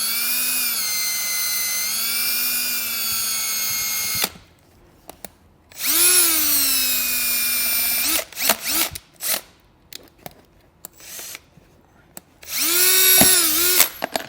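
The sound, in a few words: power drill drilling pilot hole in Jeep panel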